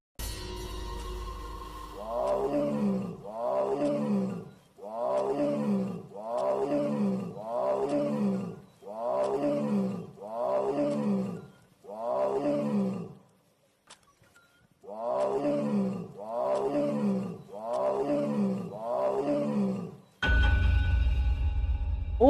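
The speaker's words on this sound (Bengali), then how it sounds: "এ তো বাঘের ডাক" A tiger roars at night in a long series of deep, rhythmic, throaty bursts, each group evenly spaced, pausing once before resuming, then ending in a sudden rumble.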